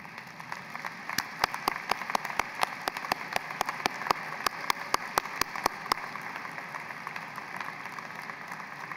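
Graduates and guests at a university commencement ceremony give a round of applause. Distinct, evenly spaced claps carry over a soft, hall-like background hush, without speech.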